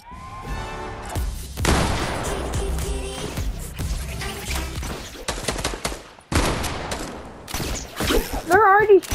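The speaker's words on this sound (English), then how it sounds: "They're already shooting each other" Gunfire in a Fortnite match, with bursts of shots and rapid firing from several players, some loud and close, broken by short pauses, with a voice speaking near the end.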